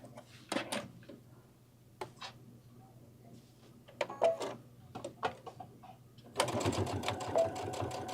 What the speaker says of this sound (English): I'm just going to kind of back stitch over it a little bit just to make sure it's really on there strong